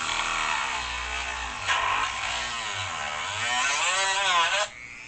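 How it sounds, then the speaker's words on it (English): A Dremel rotary tool runs continuously on a converted RC toy, a high steady whine with shifting pitch that climbs and then cuts off sharply near the end; a low hum sits underneath. "Now I could rev that up and make it go even faster, but then it's harder on your Dremel."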